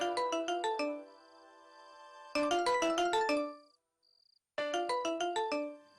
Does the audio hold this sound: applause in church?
no